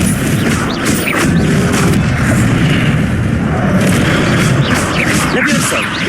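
Hogwarts Legacy video game duel with Stupefy stunning spells striking, loud continuous booming blasts and crashes layered densely over busy game sound, with a voice talking over it.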